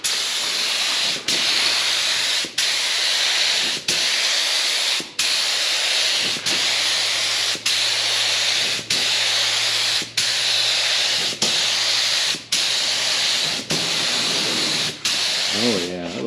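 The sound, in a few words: air spray gun spraying primer on a 1995 Miata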